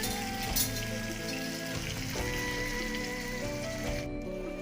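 Beaten sour yogurt goes into a spiced masala already frying in oil, giving a steady, close sizzle and crackle that keeps up without a break under faint stirring, with no voices.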